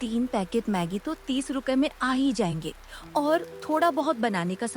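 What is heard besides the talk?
None of the usual background noises is heard.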